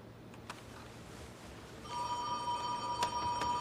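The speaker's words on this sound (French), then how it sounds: "Ça a tout l'air d'un téléphone" A telephone starts ringing partway through, its steady electronic tone sounding clearly over a quiet room after a few faint knocks, with no talking.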